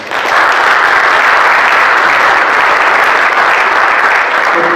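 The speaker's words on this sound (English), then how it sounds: "Another round of applause for all that he does in our district." A loud, dense wave of sustained applause rises from a conference audience for a school district superintendent, holding steady throughout with no speech.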